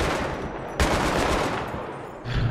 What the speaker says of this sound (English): I'm still seeing machine guns firing